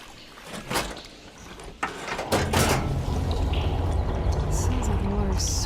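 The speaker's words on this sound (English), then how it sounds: "Sounds like the water's switched." In a video game, water flow switches: a rushing surge of water rises and holds steady after a few clanks and thuds, with a voice speaking over it.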